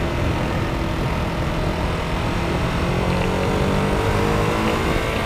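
A 2016 Ducati Monster 821 motorcycle engine roars steadily and loudly at close range, with a continuous throaty drone that holds level throughout and no talking.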